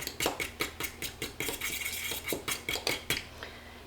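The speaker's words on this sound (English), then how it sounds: "I'm gonna mix that together." Egg and vinegar are whisked together in a bowl, giving a steady run of quick, close clinks and scrapes of a utensil against the dish, repeating in short bursts for several seconds with no talking.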